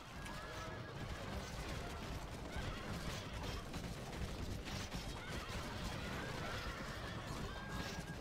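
Horses whinny amid a busy battle in Total War Rome Remastered as Sarmatian cavalry engage, a couple of high neighs rising over a dense, constant clash of combat noise.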